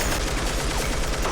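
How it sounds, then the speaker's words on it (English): A machine gun fires a rapid, continuous burst of shots in a dense, loud stream of evenly spaced reports with no pause and no talking. "Now that we are officially machine gun firers"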